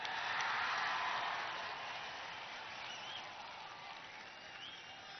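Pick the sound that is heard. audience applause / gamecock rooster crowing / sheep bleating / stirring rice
audience applause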